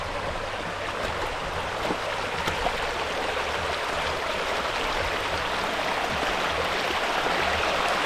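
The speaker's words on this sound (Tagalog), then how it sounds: "Itong tubig na ito galing Daranac Falls." Stream water fed by Daranac Falls rushing steadily, a constant broadband wash of flowing water with no voices and no pauses throughout.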